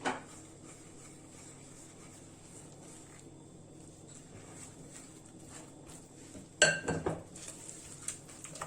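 Corn flour cookie dough mixed with oil in a bowl gives soft, quiet scraping and stirring, then a louder clatter of a spoon or utensil against the bowl near the end, with no talking.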